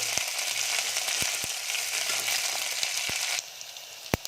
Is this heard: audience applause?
no